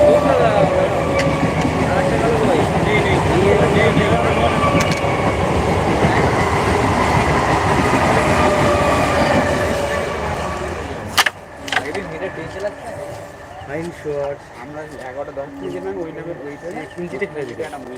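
A loud local train on the Canning line rumbles and clatters past for about ten seconds, then fades, leaving people talking nearby.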